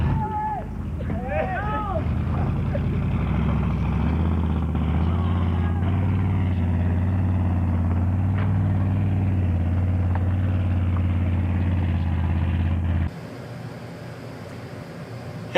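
A repaired car engine runs steadily with a low, continuous hum and rumble beneath a speaking voice, holding for about thirteen seconds before dropping away to a quieter tail.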